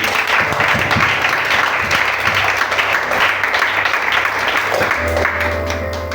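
A congregation at a youth church seminar applauds together, a dense, loud, continuous roar of clapping with a low hum running beneath it.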